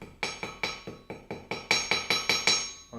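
A silver ring is hammered on a rail track jeweler's anvil: about a dozen evenly spaced, close metallic blows, each ringing bright and clear before the next strike, speeding up slightly toward the end.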